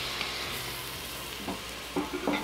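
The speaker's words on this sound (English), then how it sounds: "Then add a little vegetable broth. We're gonna deglaze the pan." Vegetable broth poured into a hot pan for a creamy white bean and kale soup gives a steady hiss, with a few short scraping knocks near the end as the bottom is worked, close and unvoiced.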